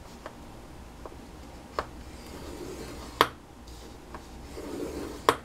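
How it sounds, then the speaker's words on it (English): Scoring paper for a stamp, die and ephemera storage binder on a scoring board, heard as several sharp separate taps and short scraping strokes spaced over a quiet background. "Then on the seven and three quarter inch length you're going to score again at one and a quarter"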